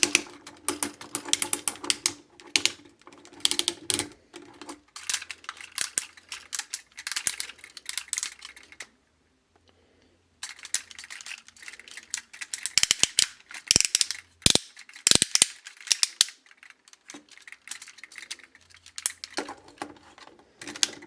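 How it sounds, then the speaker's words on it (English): Ratchet joints on a Transformers Cybertron Menasor toy click as limbs are moved, giving bursts of close, crisp ratcheting clicks separated by short pauses and one longer silent gap. "have a listen to the ratchet"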